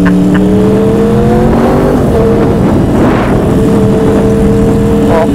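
A modified Yamaha R1 motorcycle engine is revved hard and held on the throttle, a loud, steady, buzzing drone with layered tones that shift pitch slightly, close to the microphone.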